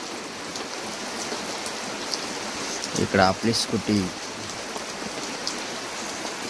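Heavy rain pours steadily outside during a downpour that has lasted since morning, a dense constant hiss throughout, with someone speaking briefly over it midway.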